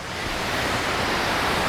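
Waterfall on a hike near Lander, Wyoming, a dense, steady roar of rushing water, loud and close, with no voices.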